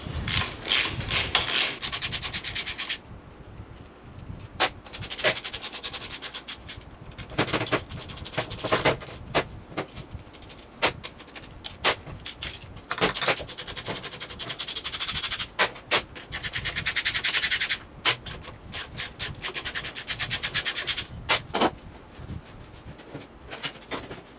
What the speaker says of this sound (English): We'll go ahead and take the bolts out of the tail shaft